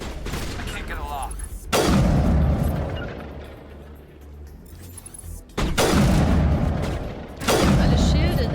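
Gunfire and explosions in the video game Mass Effect, three loud booming bursts of weapon fire separated by quieter decaying rumbles, with someone talking over the combat.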